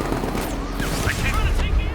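Rapid, sustained gunfire in Batman: Arkham Knight rattles on without pause, dense and loud, while voices shout over the barrage.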